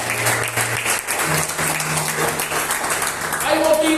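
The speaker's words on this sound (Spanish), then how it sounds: "Dale un aplauso al que vive y reina." A church congregation applauds during a worship service, dense clapping that runs throughout and is heard close and moderately loud, with a voice and sustained tones mixed in underneath.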